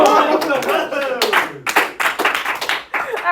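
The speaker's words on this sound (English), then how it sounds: "we're clapping when the top hits the numbers here" A class in a math lesson claps together in a loose rhythm, sharp near claps in short bursts separated by brief pauses, with voices talking between them.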